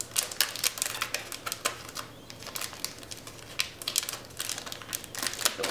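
A packaged gift item from a winter seasonal surprise box being opened, close crinkling and crackling of packaging in dense irregular bursts, with no voice.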